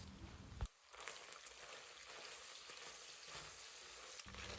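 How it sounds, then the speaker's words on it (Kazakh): Meat frying over high heat in a pan, releasing its juices, gives a steady, loud sizzle that runs throughout with a brief dip near the start and a few stirring scrapes. "Сол сөлі өзіне тартылғанша жақсылап тұрып, жоғары отта етті қуыруды жалғастырамыз"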